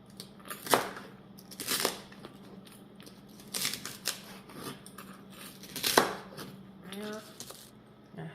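Knife cutting beet greens on a cutting board, a series of crisp chopping cuts spaced irregularly, close and moderately loud, with quieter crunching of leaves and stems between strokes.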